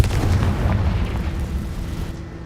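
A Confringo spell explodes in a Harry Potter video game, a loud, deep rumbling blast that booms at once and slowly decays over a couple of seconds.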